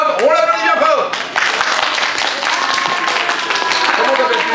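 An audience at a storytelling show claps for a young volunteer playing a captain, a burst of applause that starts after a voice and carries on steadily, with talk over it.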